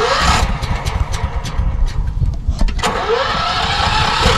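An Eliet wood chipper engine starts on its electric starter and runs, a loud, close, continuous rough mechanical roar with a faint rhythmic pulsing and no talking over it.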